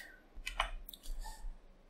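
A computer mouse clicks several times in short bursts, sharp close taps with small gaps, alone with no voice, during play of an Unreal Engine strategy game.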